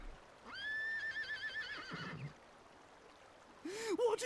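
A horse whinnies in the video game Dragon Quest 8, a long wavering neigh that is followed by a second, shorter whinny after a quiet gap, heard alone at modest level.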